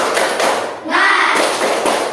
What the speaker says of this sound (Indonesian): Coba 1 kali lagi tepuk semangat